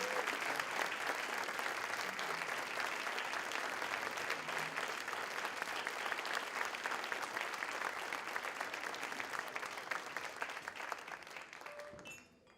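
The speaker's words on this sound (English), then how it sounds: "please join me in a well-deserved round of applause for these incredible" Sustained round of applause from the audience at a State of the City event honoring performers, steady dense clapping that lasts about twelve seconds before tapering off at the end.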